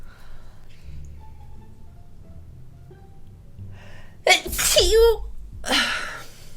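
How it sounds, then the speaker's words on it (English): A single loud sneeze with a sharp intake breath before it, then a second shorter burst, after a quiet stretch with faint room noise. "I need to sneeze."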